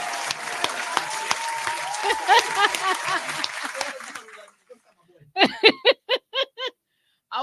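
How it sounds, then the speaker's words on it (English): An audience claps for several seconds in a dense, steady round of applause with a little laughter. The clapping fades out and short bursts of nearby talk follow. "We can give him a hand clap too."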